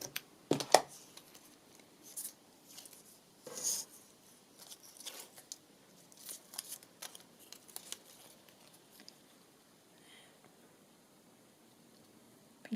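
Scissors snipping paper and washi tape up close: a handful of short, quiet cuts and rustles spread out irregularly, with soft handling sounds between them in a quiet room.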